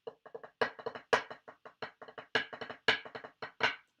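A drum pattern played alone on a snare in an uneven, repeating 5/4 groove, with accented strokes and quick grace-note flams between sharper hits.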